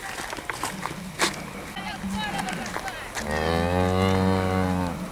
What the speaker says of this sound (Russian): вон идут все коровы